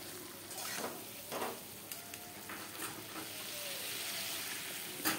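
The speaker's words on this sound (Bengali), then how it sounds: "তো এখন মশলার সাথে ভালো করে কষিয়ে নেব" Boiled eggs being sautéed with masala in a pan, a quiet continuous sizzle and fry with intermittent scraping stir strokes, close and soft.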